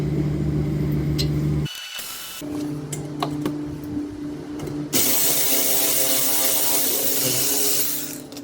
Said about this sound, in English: We're going to take a 3/8 inch ratchet and remove this.